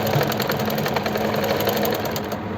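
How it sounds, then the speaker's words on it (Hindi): A sewing machine stitches elastic onto the side seam of a pant, running loud and close in a fast, steady mechanical rattle without pause. "जो सिलाई है हमारी साइड वाली, जस्ट उसी पर ही स्टिच लगानी है"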